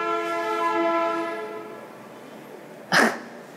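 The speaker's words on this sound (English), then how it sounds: "the train definitely got louder and freer with its noise" A train horn sounds as a long harmonic blast that fades out, followed by a sharp single bark-like burst near the end; no talking.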